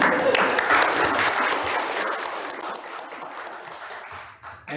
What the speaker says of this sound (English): Members, can we please a round of applause?